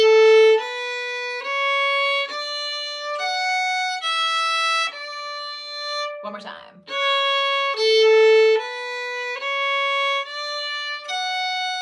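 A fiddle plays a phrase from the Quebecois reel Le Forgeron as clear, separate bowed notes moving stepwise up and down. A short spoken break falls midway before the phrase starts again.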